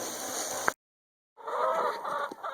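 A flock of 450 chickens being raised on fermented grains, clucking in a dense, continuous chorus up close, broken by a short silent gap before the clucking resumes.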